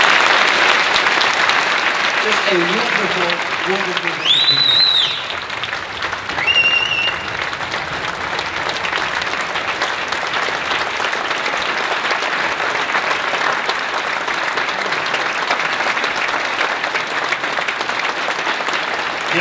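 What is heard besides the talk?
audience applause at film premiere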